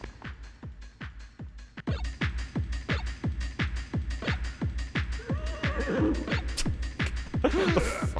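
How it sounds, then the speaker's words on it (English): Horse sounds from the video game Vib-Ribbon: a rapid, evenly spaced pulsing with a galloping beat runs throughout, growing louder after the opening seconds, with a brief whinny-like flourish. "The fucking horse sounds."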